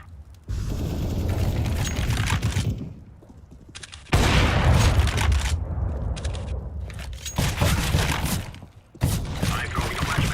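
In CS:GO, a Molotov and a grenade go off in sharp bursts of blast and fiery crackle, several abrupt loud onsets separated by brief quieter gaps.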